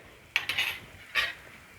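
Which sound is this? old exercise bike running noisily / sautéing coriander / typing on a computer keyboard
sautéing coriander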